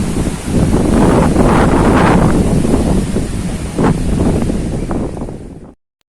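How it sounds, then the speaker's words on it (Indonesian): Strong gusting wind on the summit of Gunung Kencana during a night climb, roaring and buffeting the microphone, loud and continuous, easing slightly before cutting off. "ini kondisinya angin lagi gede-gedenya nih"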